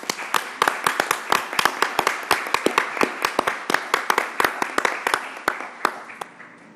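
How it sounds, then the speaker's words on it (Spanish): An audience at an international corporate and company law conference applauds a guest: dense, irregular hand claps from many people, close and lively, sustained for several seconds without a break. "pido nuevamente un aplauso para don José Botteri"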